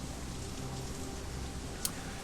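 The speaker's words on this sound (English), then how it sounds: "Foul, oily water rains down from above, mixes with the filth and offal and swill of the streets" Steady rain from the video game Shadowrun Hong Kong, a constant hiss that stays even and close throughout, with one brief sharp tick near the end and no voices.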